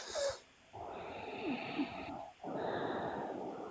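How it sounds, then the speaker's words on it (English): A person snores close by with two long, raspy breaths in a row, each rough inhale running about a second and a half with a short pause between them. "So I hear somebody snoring."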